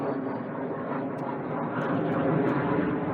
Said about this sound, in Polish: I co dzień tak, co dzień taka młocka samolotami.